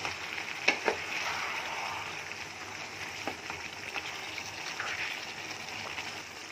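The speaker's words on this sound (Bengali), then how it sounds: "একদম চিকেন ভাজা হয়ে গেছে" Chicken pieces and potatoes with black pepper frying in a pan, giving a steady, even sizzle with a few light stirring clicks, close but fairly quiet and without talk.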